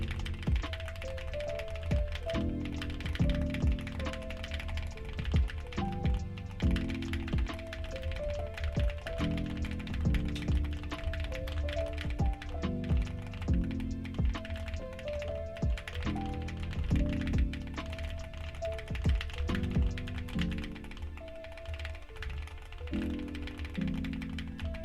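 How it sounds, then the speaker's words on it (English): Rapid computer keyboard typing during an online typing race, a dense, continuous stream of close clicking keystrokes with brief irregular pauses, heard alone without talk. "I'm not typing that well today"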